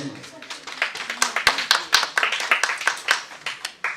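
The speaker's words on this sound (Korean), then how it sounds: "박수 한번 보내주세요" Audience applause at a lecture hall during a Confucian academy talk, a dense run of overlapping hand claps from a modest crowd, close and steady for several seconds.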